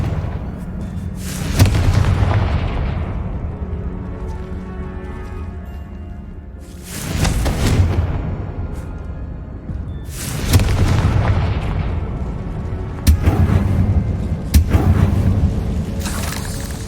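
Fire-blast spells in the Hogwarts Legacy video game go off as a series of loud booming explosions, spaced several seconds apart, each with a rolling rumble that fades slowly under a constant background.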